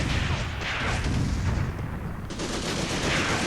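Heavy gunfire in the tank combat video game Tank Warfare: Tunisia 1943, a dense continuous rattle of machine guns and booming shots, loud and sustained throughout with a brief dip midway.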